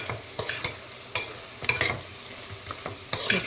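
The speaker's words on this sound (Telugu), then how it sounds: "ధనియాల పొడి, గరం మసాలా, జీలకర్ర పొడి వేసి బాగా మిక్స్ చేసుకుందాం." Minced meat curry being stirred in a pan after coriander powder, garam masala and cumin powder go in, giving a few scraping, sizzling strokes at an irregular rhythm, close and fairly quiet.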